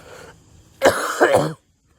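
A single close, loud cough, a sharp burst followed by a rough hacking tail, then silence.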